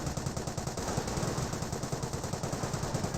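Sustained machine gun fire during a Company of Heroes 1 battle: rapid, evenly spaced bursts rattle on continuously at moderate loudness within a dense wash of battle noise, with no voices.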